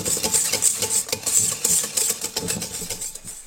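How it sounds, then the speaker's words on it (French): Whisk beating fromage blanc, mascarpone and Philadelphia cream cheese together in a bowl: fast, continuous rhythmic scraping and clicking strokes, close and fairly loud. "on va mélanger tout ça à l'aide d'un fouet."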